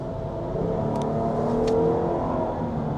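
A Jeep Grand Cherokee L's 3.6 liter V6 engine accelerating, a faint, smooth drone rising gently in pitch from inside the cabin, with a couple of small clicks and no talking.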